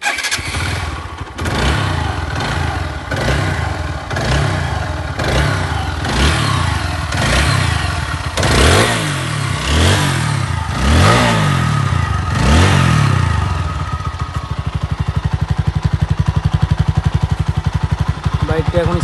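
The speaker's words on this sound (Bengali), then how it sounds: "বাইকটা এখন স্টার্ট করব," A red 2021 Apache RTR 160 4V ABS motorcycle is started and revved repeatedly, each throttle blip rising and falling in loud, close bursts before it settles into a steady idle. Someone talks over parts of it.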